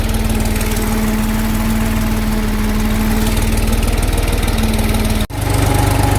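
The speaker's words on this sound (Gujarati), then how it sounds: "આપણે ફરીથી ટ્રેક્ટરમાં ચડી અને ટ્રેક્ટર ચાલુ કરી દીધું છે" A farm tractor's engine runs steadily at a loud, close idle while sowing wheat in a field. Its chugging drone is briefly cut by a sharp dropout near the end before picking straight back up.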